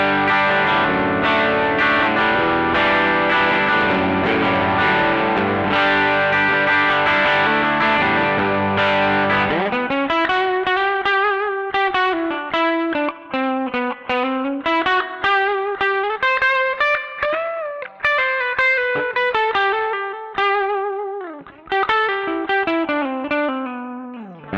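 An electric guitar runs through a TC Electronic Arena reverb pedal, first as a dense, distorted chord wash, then as clean picked rhythm chords trailing a roomy, springy reverb tail, loud and alone.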